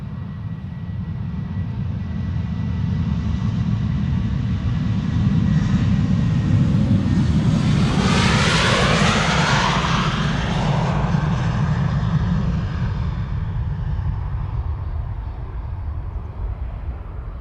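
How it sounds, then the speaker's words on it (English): A KLM Boeing 737-800 departing Amsterdam Schiphol thunders past, a loud continuous jet roar that swells to a sweeping peak as it passes and then fades slowly away, with no talking. "First up, KLM flight 1031 to Person-Chester. 737-800."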